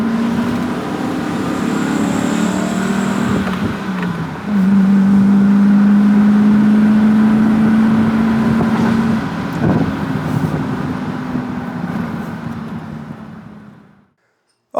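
A 1975 Mercedes-Benz 350 SL engine revving, a steady loud drone that swells into a strong sustained rev midway and then fades to silence near the end, with wind noise over the microphone.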